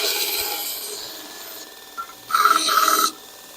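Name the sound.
Harbor Freight Hercules bench belt grinder grinding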